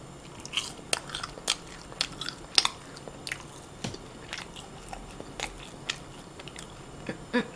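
Close, crisp bites and crunchy chewing of a homemade fried cheese stick dipped in sauce, irregular sharp crunches over a quiet background with no talking.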